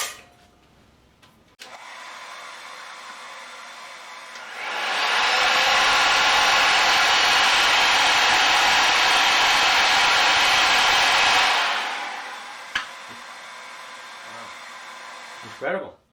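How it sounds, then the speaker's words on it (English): A hair dryer, toaster and circular saw run together off a 3000W/6000W off-grid power inverter, giving a loud, steady broadband whir that swells in after a few seconds, holds for about seven seconds, then drops back to a low hum with faint clicks. "So now I'm going to use a toaster along with the hair dryer and then the circular saw."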